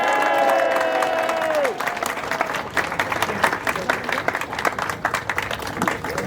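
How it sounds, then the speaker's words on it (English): A crowd at an outdoor rally against anti-Asian hate applauds and cheers, dense clapping filling the clip, mixed with whoops at the start and a steady patter of hands throughout. "Another round of applause, please."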